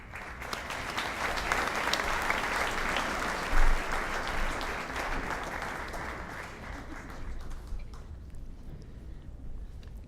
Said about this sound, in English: Please give a round of applause as John Mayer joins me on stage.